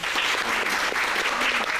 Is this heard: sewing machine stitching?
no